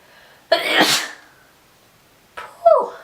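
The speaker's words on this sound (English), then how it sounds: "I'm gonna sneeze." Two sharp sneezes, close and fairly loud, the first a drawn-out blast and the second shorter after a brief pause.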